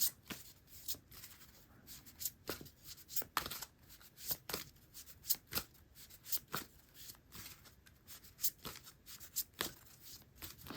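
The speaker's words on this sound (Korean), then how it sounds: "카드 한 번 더 뽑아볼까요?" Tarot cards shuffled and drawn by hand, a steady run of soft riffling flutters and crisp snaps repeating over about ten seconds, close and fairly quiet with no voices.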